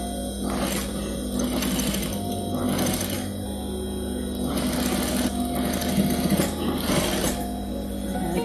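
A sewing machine stitches a zipper onto a fabric lunch bag, giving a close, rhythmic mechanical chatter in repeated short runs with brief pauses between them, steady and moderately loud with no voices.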